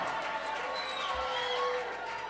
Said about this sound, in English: Clapping all crazy and shit.